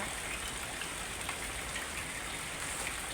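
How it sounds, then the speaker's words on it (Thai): Light rain falls steadily, a dense, even hiss with faint scattered drop patter throughout and no voices. "ฝนตกไม่แรง"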